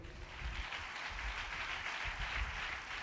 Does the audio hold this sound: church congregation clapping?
yes